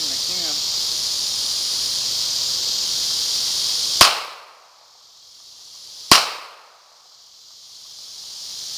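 Two sharp, loud pistol shots from a .380 Colt Mustang Mk IV Series 80 fired at cans outdoors, about two seconds apart, each ringing off in a decaying tail over a steady insect-like hiss.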